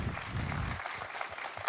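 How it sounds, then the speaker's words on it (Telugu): An audience clapping at a Buddha Purnima celebration, a brief burst of many hands that fades quickly into quieter scattered claps. "ఒకసారి గట్టి క్లాప్స్ అండి వారికి"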